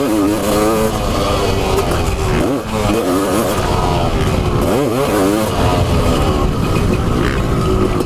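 A Honda CR500 two-stroke motorcycle screams loud and close, its raspy engine note sweeping up and down through repeated throttle bursts and brief dips.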